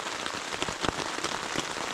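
Heavy rain falling at a backcountry campsite in Killarney Provincial Park, a dense, steady patter of drops drumming on nearby surfaces with no voices.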